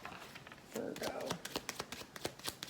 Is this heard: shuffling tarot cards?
yes